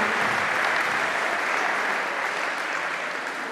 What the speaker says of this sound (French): Là, on peut les applaudir parce que c'est vraiment une très belle attaque.